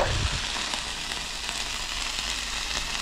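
Lomo saltado ingredients frying in a pan, a dense continuous sizzle with a low steady rumble underneath, close and even throughout, no voices.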